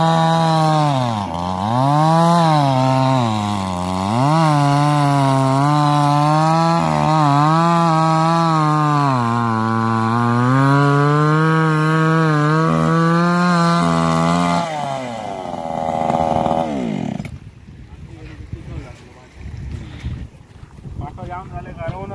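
A petrol-powered cutter runs loud and close, its small engine droning with a steady buzz that rises and falls in pitch before it cuts off, leaving quieter background noise.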